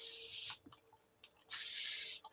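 A spray bottle misting the edge of fabric: two close, hissing bursts of fine spray, each about half a second to a second long, with faint handling clicks in the pause between them.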